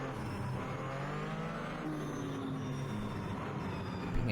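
A Porsche 935/K3 race car at Sebring, its engine droning and shifting pitch through gear changes and downshifts, loud and continuous with no voices.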